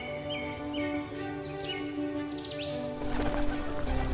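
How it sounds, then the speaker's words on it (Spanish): Seagulls call in a windy, dry scrubland setting, with several short high cries and chirps repeating through the first three seconds before a louder burst of broadband noise takes over. "las gaviotas vuelan. Sus gritos se mezclan con el sonido del viento"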